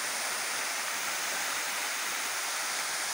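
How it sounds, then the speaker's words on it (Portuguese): A waterfall of roughly 15 to 30 metres at Cascata de Sander gives a loud, constant roar of rushing water, broad and unbroken throughout. "essa é a cascata de Thunder"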